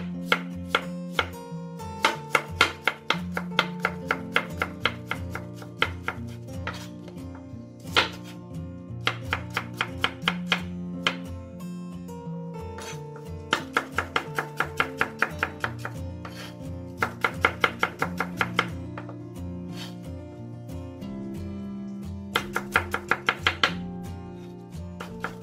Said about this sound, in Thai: และส่วนที่2ค่ะขิงอ่อนนะหั่นเส้นค่ะ